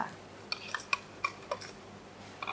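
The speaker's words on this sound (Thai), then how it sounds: "เราจะทำการคลุกเคล้าให้เข้ากันนะคะ" Ingredients for a roasted frog chili paste, ground dried chili, salt, sugar and crushed fermented soybean, are tossed together with a utensil, giving a handful of light scattered clinks and scrapes against a bowl, close and quiet, with no talking.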